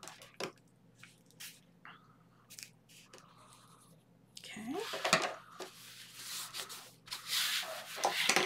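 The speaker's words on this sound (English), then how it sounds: "We'll fold over our last piece and burnish." Paper being burnished by hand after folding a piece for a 6x6 mini album, soft close rubbing and scraping strokes in short bursts that grow louder and denser in the second half, with faint talk early on.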